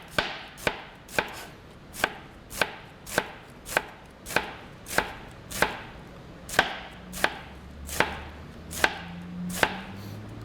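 A knife slices carrots thinly by hand on a cutting board, giving about fifteen crisp, evenly spaced chops in a steady rhythm, close and clear with no talking.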